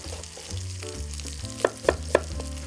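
Bacon frying and rendering fat in a pan, a steady low sizzle with some background tones, punctuated by a few sharp clinks of a utensil near the end.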